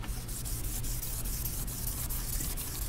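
A maroon Scotch-Brite pad scuffs a Chevy Silverado truck door jamb in quick, close rubbing strokes, a rhythmic abrasive scratching repeated several times a second without talk.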